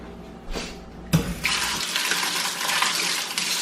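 Water from a kitchen tap gushes into a sink for hand washing, starting abruptly after a brief clunk and then running steadily and loudly, close by.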